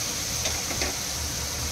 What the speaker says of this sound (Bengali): এই সব ভেজিসগুলোকে একটু নাড়াচাড়া করে নিই।